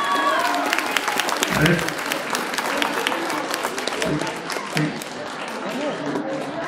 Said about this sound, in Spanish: Despedamos este grupo de niñas con un fuerte y caluroso aplauso